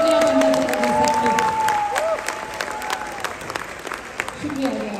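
Audience applause at a large business seminar hall, strong clapping at first that thins and tapers, with speech and crowd murmur mixed in.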